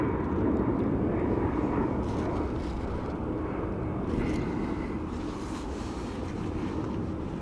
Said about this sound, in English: So, 2 A320s, next aircraft's in.